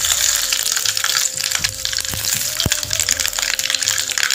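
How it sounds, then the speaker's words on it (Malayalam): Mustard and fenugreek seeds frying in hot coconut oil in a pan, a steady crackling hiss with a few sharp pops near the middle, close and continuous throughout. "ഞാൻ ഇതിലേക്ക് നമ്മൾ എടുത്ത് വെച്ചിരിക്കുന്ന ഉലുവയും കടുകും ഞാൻ ഒരുമിച്ചിട്ട് കൊടുക്കണം"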